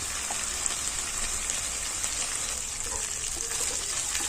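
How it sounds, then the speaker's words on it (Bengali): Spice paste fries in a pan with a continuous dense sizzle and crackle, steady and fairly loud at close range, with no talk over it. "ততক্ষণ আমি মশলাটা ভালো করে ভেজে নেব।"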